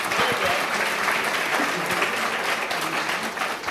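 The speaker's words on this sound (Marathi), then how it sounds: "एकदा जोरदार टाळ्या जयंती ताईंसाठी" Loud, sustained applause from a business conclave audience in Maharashtra for a woman named Jayanti, a dense steady clapping that fills the whole stretch without pause.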